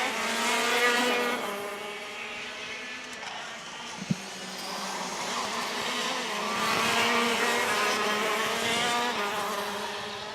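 KZ2 racing karts in a pre-final on a circuit, a buzzing high-pitched engine drone rising and falling at moderate distance as the pack runs through a corner, with one brief sharp knock midway.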